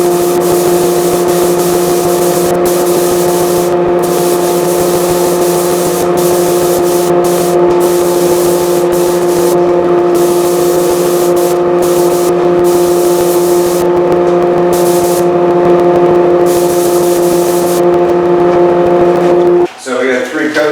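Spray-finishing a custom wooden stock for a Baikal side-by-side .30-06 rifle, with an exhaust fan running: a loud, steady droning hum with strong tonal bands carries on throughout, textured by hiss, and cuts off abruptly near the end.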